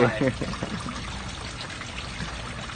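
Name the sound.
water flowing continuously through hydroponic system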